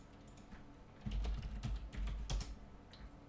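Quick, soft typing on a computer keyboard while logging in to a server: a short burst of closely spaced key clicks, close and quiet.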